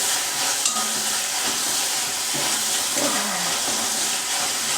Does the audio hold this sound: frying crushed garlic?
yes